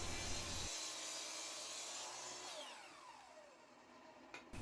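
A miter saw cuts through clamped wood panels for flat panel doors, a loud sustained whine and cutting roar that winds down over the following seconds as the blade spins to a stop, with no talking.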